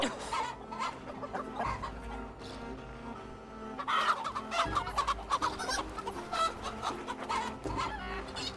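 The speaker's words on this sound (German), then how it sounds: "jetzt sind die Hühner sauer" Angry chickens cluck and squawk continuously in the video game Assassin's Creed Valhalla, a busy, agitated flock sound with game music and ambience underneath.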